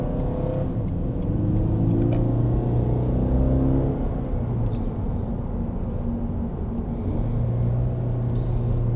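A sports car's horizontally opposed engine revs smoothly and steadily, a continuous close rumble with rising and falling engine tones throughout, no voices.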